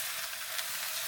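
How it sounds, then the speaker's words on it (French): Leeks sizzle in olive oil in a pan, giving a steady, close, even hiss of frying that holds level throughout. "On met un peu d'huile d'olive et on vient mettre les poireaux dedans."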